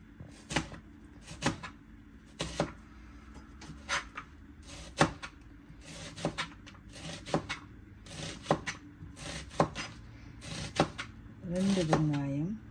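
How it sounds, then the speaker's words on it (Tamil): A knife slices onion thinly on a board in a home kitchen, making a series of crisp, evenly spaced chops at close range, with a voice speaking briefly near the end. "முதலாவதாக வெங்காயத்தை கட் பண்ணி எடுக்க வேண்டும் மெலிசு மெலிசாக கட் பண்ணணும்"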